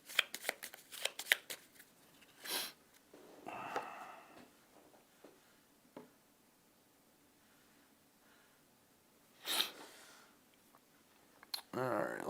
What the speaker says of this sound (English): Shuffle them back in.